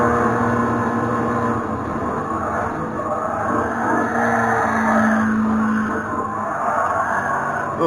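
A Toyota GR86 engine drones and revs continuously in a racing simulator, with tires squealing in long rising and falling sweeps as the car drifts through turns, loud and close.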